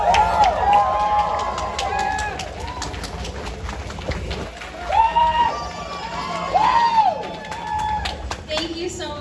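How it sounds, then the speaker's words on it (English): Audience at a TouhouFest 2025 cosplay contest claps and cheers after the craftsmanship competitors, with a steady crowd roar, bursts of whooping and scattered shouts over nine seconds. "One more round of applause if you would please"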